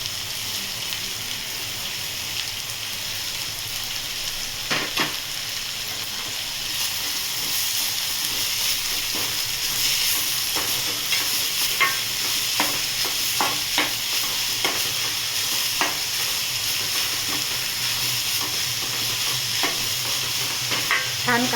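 Onion with curry leaves sautés in a pan with a continuous hissing sizzle, steady and close, broken by repeated clicks and scrapes of a spatula.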